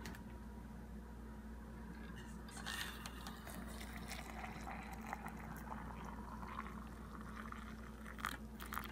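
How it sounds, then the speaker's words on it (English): Hot water is poured into a cup of French vanilla cappuccino mix, a faint, steady close trickle and fizz that continues for several seconds with small splashy bursts, against a low background hum. "And just pour in the hot water."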